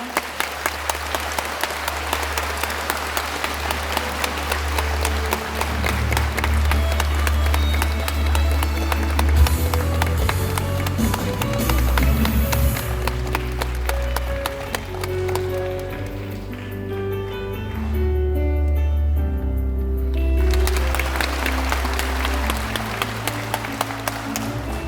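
An audience applauds to welcome keynote speaker Ban Ki-moon, former UN Secretary-General, at a humanities forum in Andong's arts centre hall, sustained clapping heard alongside loud music that fills the room.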